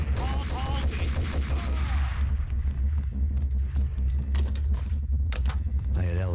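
Rapid bursts of gunfire ring out in the Max Payne video game, loud and dense, with a voice briefly at the start and sharp shots continuing throughout.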